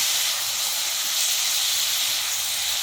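Potatoes and tomatoes frying in hot oil in a pan for a fish curry, a loud, steady, close hiss that continues without a break.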